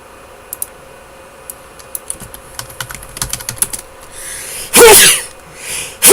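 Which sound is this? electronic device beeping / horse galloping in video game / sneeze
sneeze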